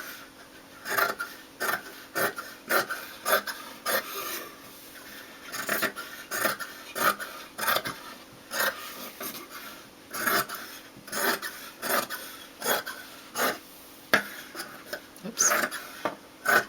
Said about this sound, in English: Alright, so I'm just going to go in and just cut it freehand.